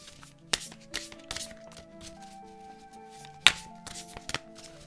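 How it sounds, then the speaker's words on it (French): Navajo blessing oracle cards shuffled by hand in a quiet room, with soft papery riffles and several sharper slaps and taps as the deck is squared, close and fairly quiet. "Je les remélange pour vous faire un tirage"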